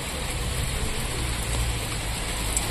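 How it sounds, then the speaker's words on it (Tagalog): Ice pellets fall in a dense, steady patter, a continuous hiss of tiny grains striking surfaces nearby. "Dati snowflakes, ngayon ano na. Hindi lang basta snowflakes. Butil-butil na yelo, oh."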